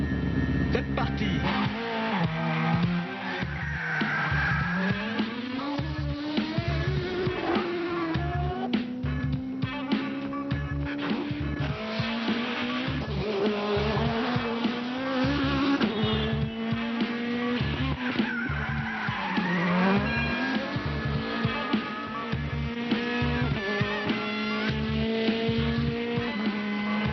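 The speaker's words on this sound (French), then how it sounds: "Un taxi blanc à grande vitesse." A white taxi racing at high speed, its engine revving and rising in pitch through repeated gear changes, with tire squeals, loud and continuous.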